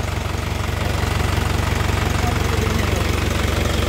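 An overhauled Isuzu 4HF1 diesel runs rough at idle with a steady, loud low throb and a fast, even knocking pulse throughout, with no talk over it.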